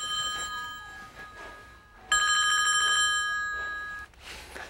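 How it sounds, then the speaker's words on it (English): A telephone rings indoors in a house, an electronic bell-like trill in two bursts separated by a brief pause, loud and close with no one speaking. "The phone rings."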